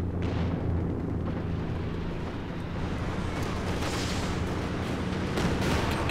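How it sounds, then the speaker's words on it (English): Katyusha rocket artillery barrage in Company of Heroes 2, a dense rumbling roar of overlapping blasts and crackling impacts, sustained and loud across the whole stretch. "Katyusha reasonably long range barrage here, going after the MG-34 and forcing it to retreat at the very least"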